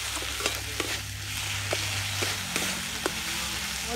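Cumin and coriander powder with salt, red chilli powder also in the pan, sautéing in oil with a steady hiss and a few light clicks of a spatula against the pan, close up.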